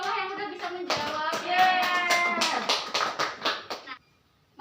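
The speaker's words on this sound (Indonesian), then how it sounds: "Beri tepuk tangan untuk istiqomah yang udah bisa menjawab." A classroom of students clapping hands for a classmate in a fiqh lesson: a loud, close burst of rhythmic clapping with voices cheering over it, ending abruptly in near silence.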